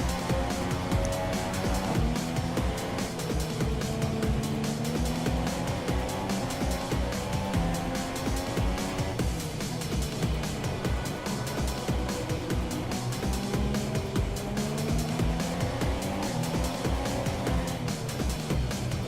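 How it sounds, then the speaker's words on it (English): F1 race cars in the F1 2017 video game at the Belgium Grand Prix, heard as a continuous loud engine roar with shifting pitch as the cars brake hard and one overtakes up the inside, with no talk over it. "Hard on the brakes, we get Bottas up the inside"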